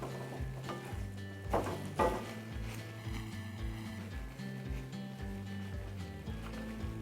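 Bacon grease sizzling in a pan as food is stirred through it, with steady frying crackle and a few louder scraping stirs, close and continuous with no talking.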